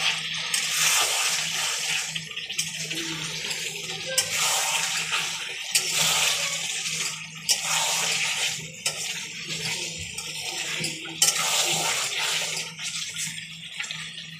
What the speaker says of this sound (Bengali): আর জল দিয়ে দেবো।